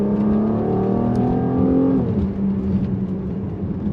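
A Mercedes-Benz GLC43 AMG engine howls loudly and steadily, its pitch climbing then dropping as the revs change, close and continuous throughout.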